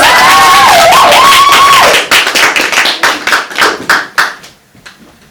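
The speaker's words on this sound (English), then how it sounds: "Please make it loud for Kelsie Ozamiz." A stand-up comedy class audience breaks into applause for a comic after a sustained whistle-like tone, clapping loudly then thinning out into scattered claps that fade away.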